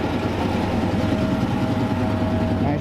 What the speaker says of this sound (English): Nice GTO rolling in.